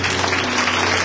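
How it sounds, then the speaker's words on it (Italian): A church audience bursts into brief, dense applause during an Italian sermon, loud and close, filling the whole short moment with no voice over it. "Facciamo un applauso al Signore"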